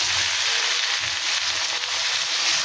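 Pieces of elephant foot yam frying in hot oil with chili and cumin, a steady dense sizzle, close and loud, with no talking over it.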